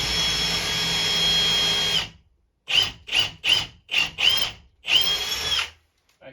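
A power drill pre-drilling a hole for a wall TV bracket whirs loudly for two seconds, stops, then runs in five short bursts and one longer final spin, close up.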